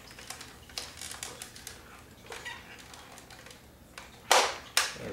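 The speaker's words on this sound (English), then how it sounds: "It's a Nerf machine gun." A Nerf belt-fed toy machine gun gives a few faint mechanical ticks, then two sharp, loud plastic clacks close by near the end, over a quiet room.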